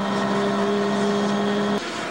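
A race car at the 24 Hours of Le Mans passes with a loud, steady engine whine that holds a constant pitch, then cuts off abruptly as it moves out of earshot.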